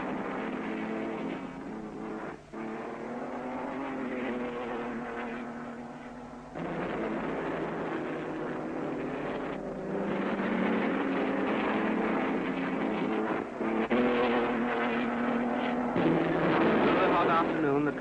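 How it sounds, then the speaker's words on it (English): 1950 British Grand Prix Formula 1 race cars sweep through the right-hand bend at Stowe Corner, their engines a continuous rough roar that rises and falls as they pass, heard through a noisy, dated recording. "The protecting straw bales at Stowe Corner give a good indication of the speed at which these cars are taking this right-hand bend."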